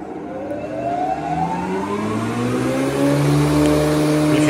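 The cutterhead of a Felder D951 thickness planer, freshly overhauled, spins up with a loud, rising whine that climbs steadily in pitch and builds to a strong, steady high-speed drone.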